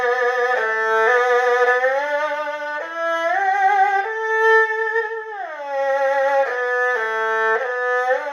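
An erhu bowed with unbalanced finger pressure on the strings, a continuous, slightly rough, wavering melodic line sliding between pitches, close and steady with no talk.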